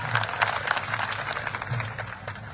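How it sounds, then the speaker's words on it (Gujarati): A crowd at a farmers' protest gathering claps in dense, continuous applause, a steady wash of many hands with a low rumble underneath. "તો એના માટે એક જોરદાર તાળી વગાડી દો."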